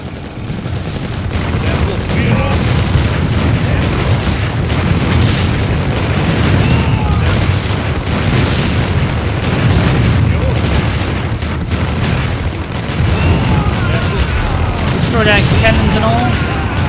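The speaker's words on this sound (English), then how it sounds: "Cannons and all." Battle sounds in the Empire Earth strategy game, German campaign at the Somme, with cannon fire and explosions. Dense, continuous booms and gunfire rumble loudly throughout, with brief higher whistles and crackles layered on top.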